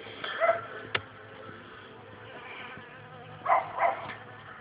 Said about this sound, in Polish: Pszczoły dużo jest.